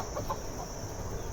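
Free-range village hens on a farm poultry area cluck softly in a few short bursts over a quiet outdoor background, fairly close, with a brief thump near the end.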